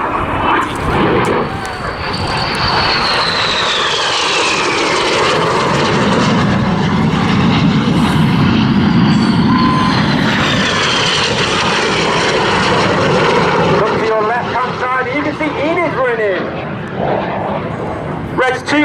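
RAF Red Arrows jets roar loudly and continuously overhead during a barrel-roll display at a seaside airshow, with rising and falling engine whine as they pass, and a commentator talking over it.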